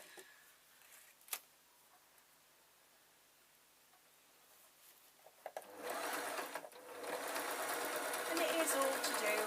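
A sewing machine stitches a tweedle muffler, starting quietly after a soft tap and then running in a loud continuous whir through the latter half.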